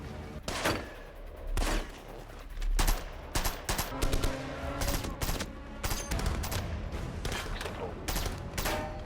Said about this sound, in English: The extraction helicopter arrives just as they face heavy gunfire, and Tanner provides crucial cover fire